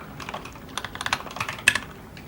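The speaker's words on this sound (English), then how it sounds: "Keyboard, here's the keyboard." Someone types on a computer keyboard in quick, uneven bursts of crisp clicks, heard close up with no talking.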